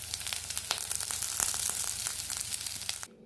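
Mixed vegetables for a Bhogi bhaji, dusted with chili powder, stir-frying in a pan. A steady close sizzle carries crackles and stirring scrapes, then cuts off abruptly near the end.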